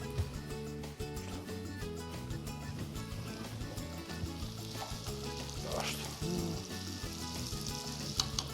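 Plums frying in a pan with a splash of orange juice for a plum dessert give a steady, hissing sizzle, mostly buried under continuous background music.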